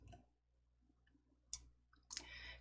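Sharp, quiet mouse clicks sound in a nearly silent room while someone selects a font in PowerPoint, with two or three distinct taps spaced apart.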